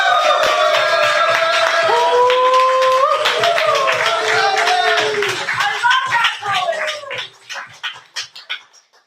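Applause and cheering from an open mic audience, full and sustained with whoops on top, then thinning into scattered claps that fade out.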